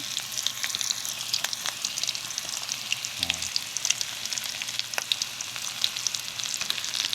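Garlic, onion and tomato sauté in a pan with a steady, bright crackling sizzle, joined by occasional stirring clicks and a brief low thump midway.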